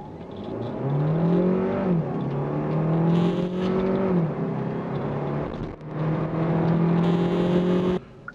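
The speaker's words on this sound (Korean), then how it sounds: "이렇게 시속 100km 가속 시간과 거리 측정해 봤습니다" A Kia K5 2.0 hybrid engine revs hard and climbs in pitch through successive gear shifts during a 0–100 km/h acceleration run, loud and close, with brief dips between gears and no talking.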